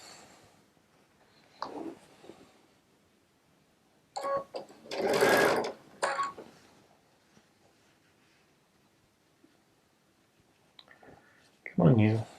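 A Baby Lock Solaris sewing machine piecing quilt blocks with a 1/4-inch piecing foot runs in a few short bursts, the longest about two seconds, with quiet pauses between them and a brief burst at the very end.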